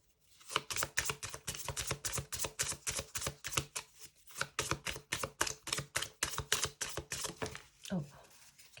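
A new deck of playing cards riffles in a rapid run of crisp, snapping clicks, the bursts repeating steadily and close at hand for several seconds, with a short pause near the middle.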